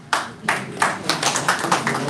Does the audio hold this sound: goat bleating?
no